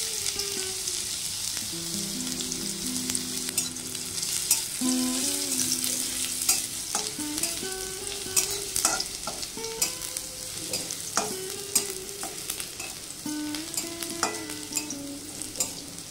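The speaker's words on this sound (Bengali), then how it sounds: "তেল গরম হয়ে গেছে, দিয়ে দেব থেতো করা রসুন।" Crushed garlic frying in hot mustard oil in a kadai makes a steady close sizzle, broken by repeated clinks and scrapes of a spoon stirring against the pan. No one speaks.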